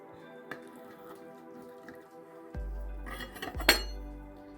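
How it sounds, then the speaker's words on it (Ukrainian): A knife cutting a cooled pumpkin pie on a plate, with a few soft taps and scrapes, a sharp clink of metal against the dish near the end, and a dull thud, all close up in a quiet kitchen. "Зараз будемо різати його і дивитися, що у нас вийшло."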